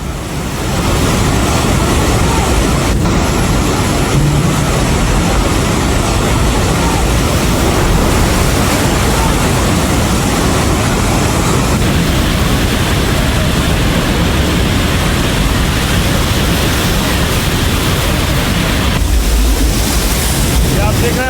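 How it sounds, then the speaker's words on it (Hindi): Flash floodwater rushes through a bus depot near the China–Nepal border in Nepal, a loud, dense, continuous roar of churning water filling the whole stretch. "पानी का बहाव देखिए जरा, इतनी तेज पानी आया है कि खिलौनों की तरह बस पानी में बहती हुई चली गई है"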